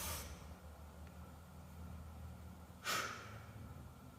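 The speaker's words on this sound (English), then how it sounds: "breathing out as we come up" A person breathes during a hip hinge exercise, with one short, breathy exhale at the start and another sharper, louder exhale near the end over a quiet background.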